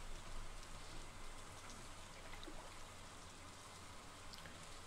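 Steady rain falls in the Stardew Valley video game, a dense, even hiss that holds at a constant level for the whole stretch with no voices over it.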